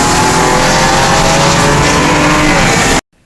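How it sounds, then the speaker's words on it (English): Turbocharged BMW 335i with a 67mm single-turbo M54 engine at about 650 wheel horsepower accelerating hard in a quarter-mile drag race: a loud, continuous engine roar held close for three seconds, then cut off abruptly. "I have a quick race with this 67mm single turbo M54, no lift shift, 23 pounds of boost, around 650 wheel horsepower"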